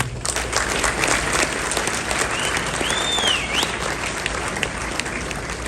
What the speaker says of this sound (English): Round of applause, brothers.